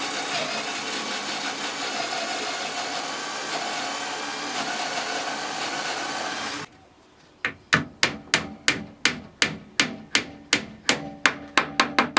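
Wooden dowels tapped with a hammer to join the frame and trim of a wooden shelf for a Honda N-VAN rear window. After several seconds of steady machine hum, about a dozen crisp, evenly spaced knocks sound up close.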